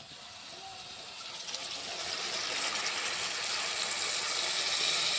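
Water poured into a pot of village-style chicken curry made with fresh raw cashews, a steady rising gush that grows louder over several seconds with no talking.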